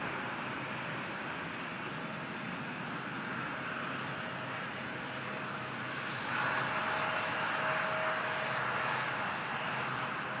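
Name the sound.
airliner engines at Toronto airport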